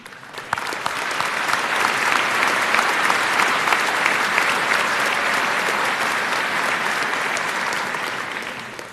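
Sustained, dense applause fills a high school commencement hall for the 2016 Wadsworth High School valedictorian, swelling quickly and holding steady before tapering off at the end.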